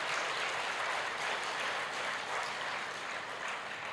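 An audience at a live evening talk for young people in Ranchi claps together in a dense, sustained round of applause, steady and full for the whole stretch with no speech over it.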